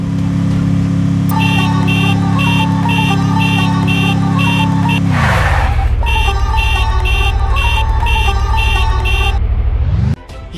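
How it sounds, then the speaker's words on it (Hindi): A loud, repeating musical tuk-tuk horn tune in Free Fire pulses in quick rhythmic bursts over a droning engine that drops in pitch midway, then cuts off. "चलते हैं वही टुक टुक पर और सुनते हैं कि उसका हॉर्न इन सबसे अलग है"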